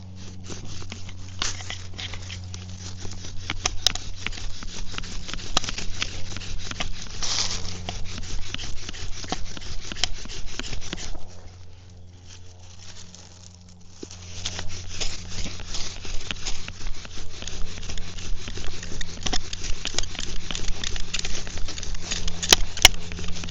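Bow drill spindle burning into a willow fireboard, a rhythmic rasping friction from steady back-and-forth bow strokes, pausing briefly midway before resuming at a quicker pace.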